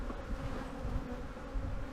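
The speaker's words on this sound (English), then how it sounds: "I was gonna try to shake some more bees in" Honey bees buzz densely around an opened, aggressive beehive during a frame-by-frame inspection, a continuous, close swarm hum with no talk.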